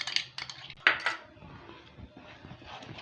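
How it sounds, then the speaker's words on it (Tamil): Mango kesari of semolina and ghee is stirred in a pan, a spoon clinking and scraping against the metal in quick, light strokes, fairly quiet and close. "இப்போ நல்லா கைவிடாமல் கிண்டுங்க."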